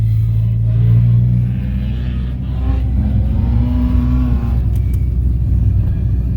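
A car revs hard and shoots flames from its exhaust. A loud, close engine roar rises and falls, and a few sharp pops cut through near the end.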